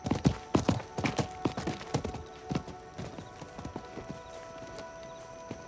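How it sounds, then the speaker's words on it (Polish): Horse hooves of a merchant's mount in Diablo IV clip-clop in a quick rhythm of sharp knocks, loud at first, then slowing and fading as the horse moves off, with no talk over them. "To był chyba koń kupca."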